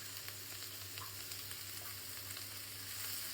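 Chicken pieces frying in a pan for honey chicken, producing a constant, even sizzle at low level with faint crackles throughout, heard close and alone without voices.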